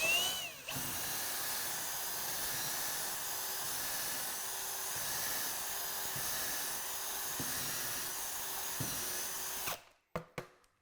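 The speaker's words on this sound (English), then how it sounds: "Eventually, the drill bit will chew into the wood, no problem." A power drill bores steadily into a wooden wall stud while a TV is mounted, a loud, continuous high whine held for about nine seconds with slight pulsing, then stopping abruptly and followed by a few short clicks.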